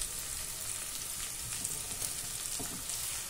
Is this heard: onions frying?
yes